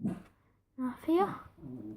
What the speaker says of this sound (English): That's my dog. He's barking.